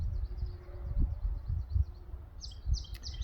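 Faint birds chirp and twitter in the distance outdoors, over a low rumbling background with soft rustling.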